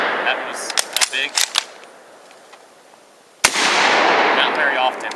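A Swedish Mauser M96 Carl Gustafs rifle fires a blank through a blank-firing adapter: one loud, sharp report, preceded by a few small clicks and followed by a sustained rushing wash of noise.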